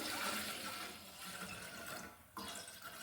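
Second and third extract coconut milk pours steadily into a pot for paal kozhukattai, a continuous close liquid splash that breaks off briefly near the end and then resumes.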